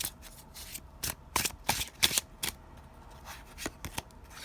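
Tarot cards are shuffled by hand up close, a series of crisp riffling bursts and soft slaps in an uneven rhythm, with no talking.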